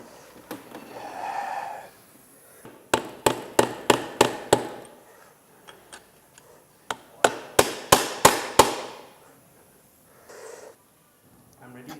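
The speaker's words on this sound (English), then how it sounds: "now I've managed to dislodge the oil pump housing" A TH200-4R automatic transmission's oil pump housing is knocked loose with close, loud hammer blows in two quick bursts of about six strikes each, with a voice and heavy breathing between them.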